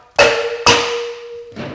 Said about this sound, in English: quick pop with the hammer to make sure everything's fully seated